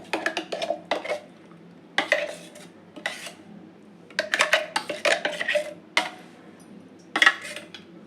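A spoon scrapes and clinks against a grinder jar and bowl as oil-free ground sesame chutney is scooped out, in irregular bursts of close metallic taps and scrapes separated by brief pauses, with no speech.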